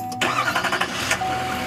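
A Chevy Silverado 3500 heavy-duty pickup engine cranks over with a quick burst of starter chatter, then catches and settles into a steady, loud idle up close.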